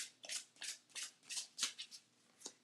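A new Talisman Oracle deck by Nora Paskaleva is shuffled by hand close up, giving about eight quick, soft papery bursts in a steady rhythm with no talking.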